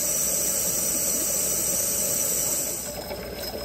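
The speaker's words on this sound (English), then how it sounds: "We've got the water running hot" Hot water runs steadily from a tap fed by a Rheem water heater, making a close, continuous hissing rush that eases slightly toward the end, with no one speaking.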